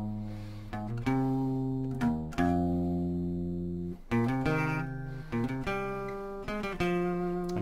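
Electric guitar plays a song's solo, a sequence of plucked notes with pull-offs, each attack ringing and decaying in a halting melodic rhythm, clear and close with no speech.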